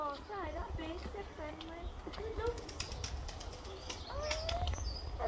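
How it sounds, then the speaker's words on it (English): Doves cooing in an enclosure at the Welsh Mountain Zoo, soft repeated coos and chirps with some wing flapping, heard close among steady crowd chatter as people talk nearby. "Look at all those doves"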